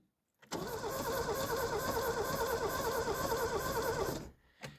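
A car engine cranks and catches after its starter motor has been refitted, then runs steadily at a fast idle for several seconds before cutting off, followed by a brief second burst.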